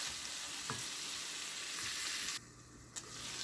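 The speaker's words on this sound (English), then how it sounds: "Cooking them nice and slow, letting them onions caramelize up." Chopped onions slowly caramelizing in a pan for a chicken stir fry give a steady, soft sizzle throughout, with a brief drop in the frying hiss midway and a faint scrape near the end; no voices.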